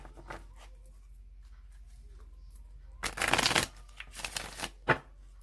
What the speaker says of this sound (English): Okay, so I'm going to shuffle it 3 more times.